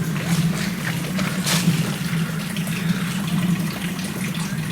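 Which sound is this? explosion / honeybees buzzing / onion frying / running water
running water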